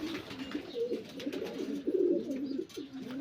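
Several racing pigeons being let out to fly coo in low, overlapping throaty rolls, continuous and fairly close, with a soft hiss of outdoor background behind them.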